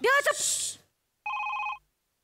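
A phone rings once with a bright electronic trill lasting about half a second, loud and clear after a burst of voices and laughter.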